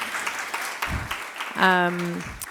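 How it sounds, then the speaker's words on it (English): Audience applause for presenters at a sickle cell disease community session, scattered claps heard under talk, with a brief tonal voice-like sound partway through. "So please, everybody give a big round of applause for both of our presenters."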